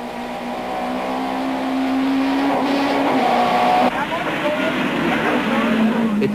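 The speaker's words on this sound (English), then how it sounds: "The cars are weaving all over the circuit as the drivers jockey for position." Touring cars racing at Port Elizabeth in the 1994 South African Touring Car Championship, BP Nissan Sentras and an Opel Astra among them: steady, loud engine drone with whining, shifting tones as cars pass, under continuous commentary.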